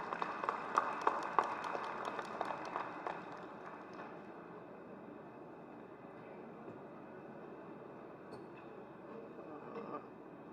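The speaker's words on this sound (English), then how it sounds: "Let us all clap our hands so loud for this lady in green." A seated audience in a large trade-centre hall applauds at an inauguration ceremony, with dense, crackling clapping that is strongest at first and then thins out and fades into room noise within a few seconds.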